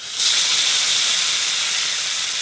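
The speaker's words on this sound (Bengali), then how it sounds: "এবার দিয়ে দিচ্ছি ছোলার ডাল" Soaked chana dal (split chickpeas) hits hot oil in a pan for a sweet pumpkin dalna, setting off a loud, steady, hissing sizzle that starts abruptly and holds at full strength without fading.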